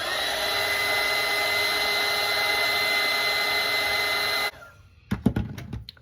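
A hair dryer blasts steadily while drying watercolour paint, a loud, even, close whirring tone that cuts off abruptly near the end, followed by a few clattering knocks as it is set down.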